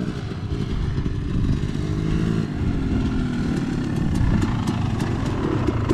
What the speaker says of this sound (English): Let's get this bike started.